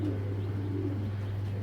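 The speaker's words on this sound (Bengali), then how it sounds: "অরিজিনাল বেলজিয়াম কবুতর।" An original Belgian racing pigeon hen coos softly and low, close by, over a steady electrical hum with no voices.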